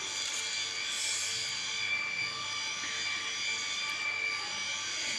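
A sewing machine stitching fabric at home runs with a steady, continuous motorized whir and buzz that holds at an even level throughout, with no talking.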